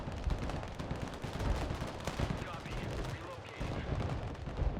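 Dense, continuous battlefield din from the video game Broken Arrow: heavy artillery and gunfire rumbling and cracking without pause, a loud wall of overlapping explosions and shots.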